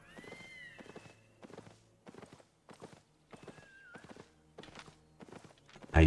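A horse in Albion Online trotting along, hooves clip-clopping in short rhythmic clusters separated by brief pauses, with faint tonal game sounds in the background and a sudden loud thump at the very end.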